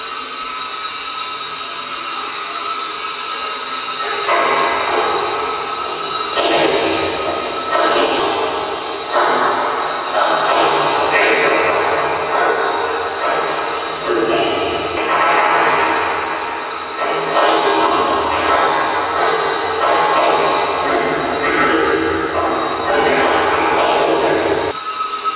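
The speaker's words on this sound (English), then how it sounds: "The spirit radio sounds like when it's hit by a laser from across the room." A Tesla spirit radio hit by a laser beam fired from across a room gives off a continuous loud, gritty noise that swells and dips in irregular bursts, rumbling and clattering almost like a passing train, with no talk.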